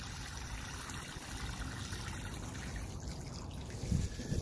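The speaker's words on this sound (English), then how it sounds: "it will take a little time for this water to go down in all the buckets" Water trickles and soaks slowly into peat moss in buckets used for growing potatoes, a soft continuous dribbling close by with no talk.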